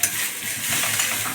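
Potatoes fry in a pan and get stirred, a short burst of close sizzling with light utensil clinks against the pan.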